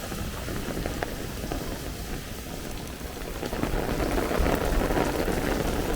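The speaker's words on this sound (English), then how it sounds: "This is torrential rain right here." Torrential rain pours down on a Bay Ridge, Brooklyn street during a thunderstorm, a dense, loud, steady hiss of drops on pavement with low thunder rumbling underneath and swelling toward the end.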